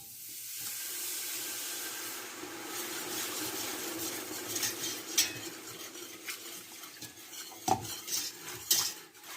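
A whisk works a milk mixture in a metal pot, a soft continuous swishing that grows into sharper clinks and scrapes against the pot toward the end, close and fairly quiet.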